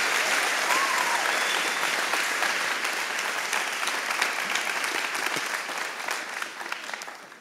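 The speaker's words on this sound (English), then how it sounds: "Let's give Mike a round of applause" An audience at a church gathering applauds, sustained dense clapping from a crowd that holds steady and gradually fades toward the end.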